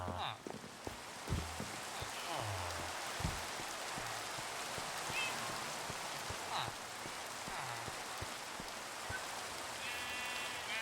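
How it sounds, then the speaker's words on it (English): Steady rain falls in a Minecraft world in the morning, a soft continuous patter with faint scattered drops and a few brief game sounds over it. "even though it's raining"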